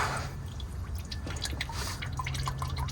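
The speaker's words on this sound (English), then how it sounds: "It's probably gonna drip." Engine oil dripping from a loosened filter during an oil change on a Subaru WRX STI, a quick patter of small drips and trickles falling close by, steady and without talk.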